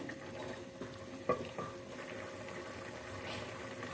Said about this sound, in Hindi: खड़े मसालों को हम फ्राई कर लेते हैं